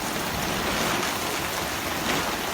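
Hail pours down during a storm over an outdoor film-screening crew, a dense, loud, continuous hiss and patter of stones striking surfaces close by, with no voices.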